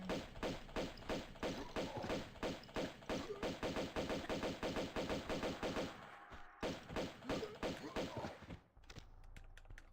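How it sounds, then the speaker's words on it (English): A shotgun in Tomb Raider II Remaster fires in a long, rapid string of loud, punchy blasts that stop abruptly near the end, leaving quieter game ambience. "It is a shotgun."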